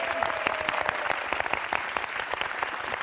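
Studio audience applause on the French TV game show Tout le monde veut prendre sa place: dense, steady clapping from a full room, fairly loud and continuous for a few seconds, with no voices over it.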